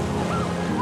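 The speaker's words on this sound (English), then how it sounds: "The waves are crashing through our cities." Brief, dense wash of water waves crashing through a coastal city in a landscape flood simulation model, a continuous close roar of surf with no voices.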